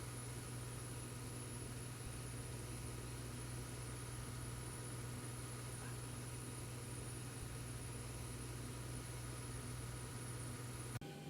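A steady aircraft auxiliary power unit whine and hum in the X-Plane 12 flight simulator, a constant drone with a sharp high tone running evenly throughout, then cutting off abruptly at the very end.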